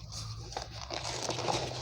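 Sheets of paper being handled during a recorded study class, giving a steady soft crinkling and rustling that continues throughout at low, close level, with no talk.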